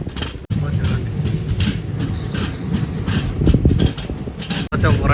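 Garib Rath SF Express train running from Yesvantpur to Puri through the Nallamala forest, a loud continuous rumble with rhythmic clickety-clack of wheels over rail joints, heard from inside the carriage.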